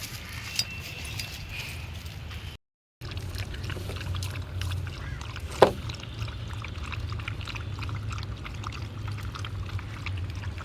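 A street dog laps up water outdoors, giving a steady run of soft, close lapping sounds over low background noise, with no one talking.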